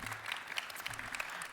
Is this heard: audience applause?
yes